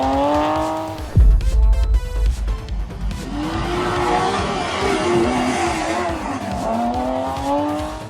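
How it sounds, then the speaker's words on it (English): A rally car engine screams at high revs, then tires skid and squeal loudly as the car is saved mid-air from leaving the track, with the engine roaring on over continued skidding. "This is what a high-risk rally car save looks like."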